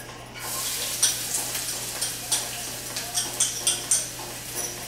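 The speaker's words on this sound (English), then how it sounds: "I'm gonna throw in half an onion and one clove of garlic" Half an onion and a clove of garlic sizzling in olive oil in a sauté pan, a steady bright crackle with several sharper pops and spits toward the end, close and fairly quiet, with no talk.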